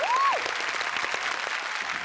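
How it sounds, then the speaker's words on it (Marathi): Audience applause for the cast of a Marathi television comedy show, a steady wash of clapping lasting throughout, briefly overlapped at the start by a short rising tone. "जोरदार टाळ्या सगळ्यांसाठी झाला पाहिजे"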